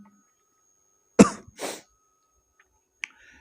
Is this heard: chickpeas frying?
no